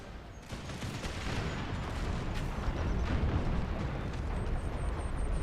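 Distant cannon fire booms repeatedly over a dense, rumbling battle din in the strategy game Empire 2, with sharp cracks scattered throughout and no voices.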